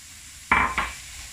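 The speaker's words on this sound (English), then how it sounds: "I've preheated my non-stick pan, and to this I'm gonna add my chopped onion, celery and carrots" Chopped onion, celery and carrots hit a preheated non-stick pan with two quick close bursts of sizzle, the second shorter, fading into quiet.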